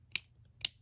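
Two sharp plastic clicks about half a second apart as parts of a Beyblade Burst spinning top snap together, crisp and close with silence between.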